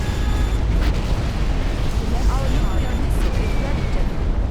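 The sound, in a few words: nuclear missile explosion in a video game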